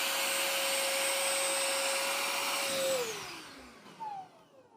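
Kenmore DS1030 vacuum cleaner running with base suction only, a loud steady whine for about three seconds that then winds down in pitch as the motor switches off.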